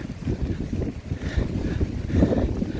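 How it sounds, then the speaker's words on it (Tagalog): Steady wind buffeting the microphone, a low rumbling roar with gusts that swell near the end, no voices. "Mahangin nga, mahangin."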